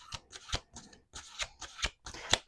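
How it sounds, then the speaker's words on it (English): Oracle cards are shuffled by hand in five or six quick riffling bursts, close and crisp, each burst separated by short pauses, with no voices. "We're going to do two more shuffles here."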